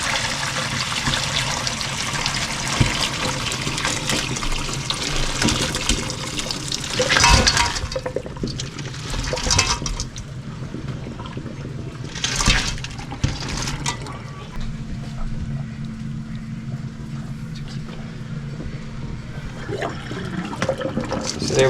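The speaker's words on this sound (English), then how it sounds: "so it's done, so we're gonna start straining it." Hot water being strained out of a pot of boiled crawfish, a steady close rush and trickle of draining water with occasional clinks and splashes, fading to a lighter dribble later.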